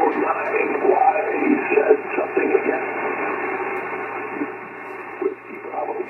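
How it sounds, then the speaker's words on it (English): Six-meter ham radio signal comes through a narrow band with a fluttering, warbling, distorted quality from aurora propagation. A garbled voice is buried in steady hiss and a low hum. "You can hear the flutter and the strange sounding signal by Aurora Propagation."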